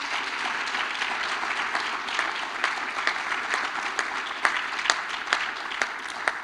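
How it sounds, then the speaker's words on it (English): Applause from the audience at a Notre Dame Black Law Students Association awards dinner and gala, a steady wash of many hands clapping throughout with a few sharper nearby claps standing out. "So please give him another round of applause."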